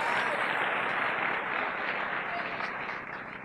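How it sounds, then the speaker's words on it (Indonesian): A large audience at a network marketing event claps in dense, sustained applause, even and continuous before easing slightly at the end. "Tepuk tangan buat upline leader Anda di sini"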